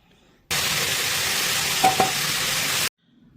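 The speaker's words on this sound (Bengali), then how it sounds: "এখানে আমাদের নুন হলুদ দিয়ে প্রায় 10 মিনিট ভাজা হয়ে গেছে, আর এই সময় আমরা দিয়ে দেব মশলা।" Mutton pieces with salt, turmeric and spices sizzle loudly and steadily in a hot pan, close up, with a couple of brief scraping stirs partway through and no talking.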